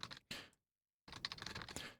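Keys pressed on a computer keyboard while working in Ableton Live, giving a short burst of close, crisp clicks, a brief silent gap, then a second cluster of taps with no speech.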